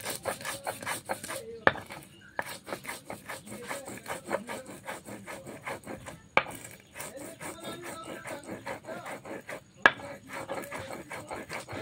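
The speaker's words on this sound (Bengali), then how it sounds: "এখানে সরষাটাকে ভালো করে বেটে নেব" Mustard seeds are ground into a paste by hand, producing a steady back-and-forth rasping scrape in quick rhythmic strokes, close by, with a few sharper knocks between runs.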